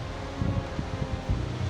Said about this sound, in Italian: il vento è 10 volte più forte perché ovviamente si infila